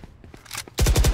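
Gunfire in the tactical shooter Valorant, with a short burst of rapid, loud automatic shots at the end, after quieter game noises and faint clicks.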